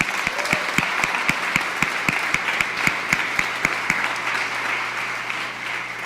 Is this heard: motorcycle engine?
no